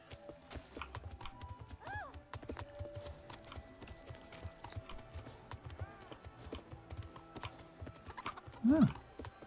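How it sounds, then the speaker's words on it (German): Steady clip-clop of a video game horse's hooves runs throughout, with a brief whinny early and a loud snort near the end, set against a low continuous background. "bevor das Pferd wirklich an die Grenze gerät. Auch wenn es jetzt schon die ganze Weile schnauft."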